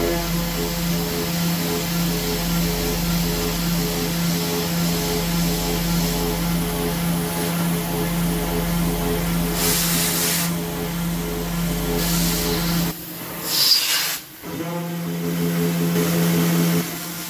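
A 3D-printed PrintNC CNC machine boring 6061 aluminium alloy with mist coolant: a loud, steady whirring hum with tonal spindle whine and airy hiss, cutting off abruptly near the end before restarting.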